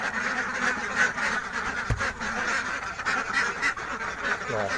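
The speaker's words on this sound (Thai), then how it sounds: "น้องเป็ดเขาได้ออกมาเลยครับ" A crowded flock of ducks, let out of their pen, quacks loudly and steadily, overlapping calls filling the air, with a brief thump partway through.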